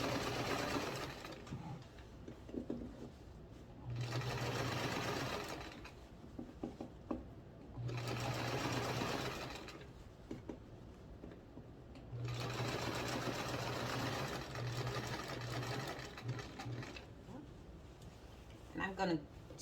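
A sewing machine stitches a folded seam, running in four sustained bursts with short pauses between them while the fabric is repositioned; a voice talks quietly under and between the runs.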